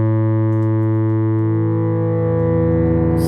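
A sustained synthesizer ambient pad built from sync oscillators set to sine waves: a steady, loud, harmonically rich drone whose buzzy low tones smooth and shift partway through, with no voices over it.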